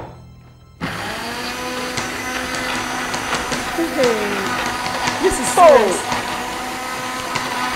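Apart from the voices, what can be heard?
blender running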